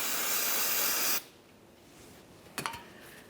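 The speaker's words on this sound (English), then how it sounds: "we'll continue on with a rag and some parts cleaner directly on that" Parts cleaner sprayed from an aerosol can onto a truck's differential mating surface, giving a steady close hiss for about a second that stops abruptly, followed by a few faint handling clicks.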